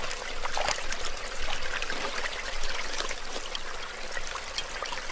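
Creek water trickling at night in Australian platypus habitat, a steady, close rushing and babbling flow that stays even and continuous, alone without voices.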